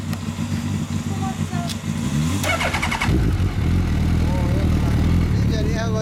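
A 2008 Suzuki Hayabusa fitted with a Yoshimura exhaust rumbles at close range, its engine note rising partway through into a deeper, fuller throb, with people talking over it.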